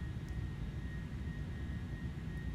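Airbus jet engines in Microsoft Flight Simulator, a steady low roar with a faint high whine on top, even and continuous for the whole stretch, fairly quiet and with no talk over it.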